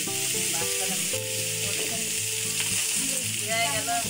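Garlic frying in a pan at an outdoor family picnic cookout, a loud steady sizzle and crackle filling the whole clip, with some background music and clatter underneath.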